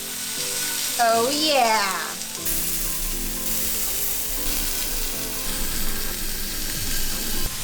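Chicken satay pieces sear in a hot pan for Malaysian satay, giving a steady broadband sizzle throughout, with a brief voiced exclamation near the start and a few clinks later.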